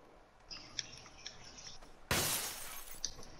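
Glass shatters abruptly in the PUBG battle royale game, a loud bright crash that rings out after a stretch of faint tinkling, with no voices over it.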